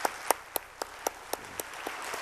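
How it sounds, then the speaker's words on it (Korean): Slow, evenly spaced claps, about nine distinct hits, ring out fairly faintly in a church sanctuary during a Wednesday worship service. "뜨거운 박수로 감사하십시다"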